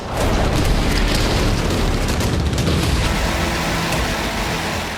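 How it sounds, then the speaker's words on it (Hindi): Heavy explosions from missile strikes on Sanaa, Yemen, roll as a continuous loud rumbling roar with dense crackling blasts that fade slightly toward the end, no voices present. "सना से विस्फोट की आवाजें आती रही"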